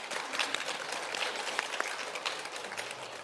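Audience applause at a literary conference's author talk, a fairly faint, steady patter of many hands clapping with a few sharper claps, lasting the whole stretch.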